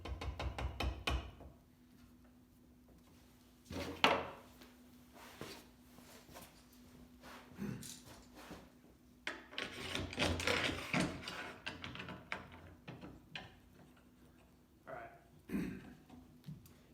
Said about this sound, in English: I'm going to add these clamps in order to ensure that it's reliably tight and not going to move around on me